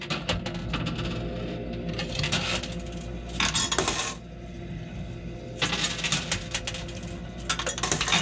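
Coins clattering and spilling in a Key Qwest coin pusher arcade machine, continuous metallic jingling with louder bursts of cascading coins, close up amid steady arcade noise, no talking.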